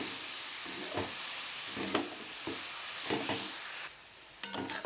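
Bathua greens sizzle and hiss steadily in a hot pan while being stirred, with soft scraping strokes of the spatula recurring every second or so over the continuous frying noise.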